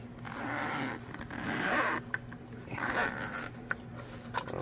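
A coil zipper pulls open in several long rasping strokes on the orange, plastic-covered vinyl case of a DX Phita 9500W portable windproof camping stove. It is close and clear, with small clicks between the pulls.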